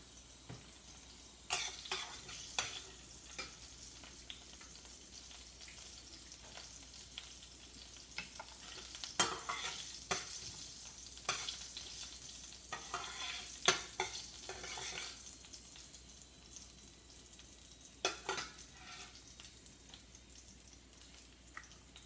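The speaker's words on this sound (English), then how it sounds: "By the time when the cumin seeds crack properly" Cumin seeds crackle and sizzle in hot oil for pav bhaji, a steady low fry broken by sharp pops and stirring scrapes, close and alone with no voices.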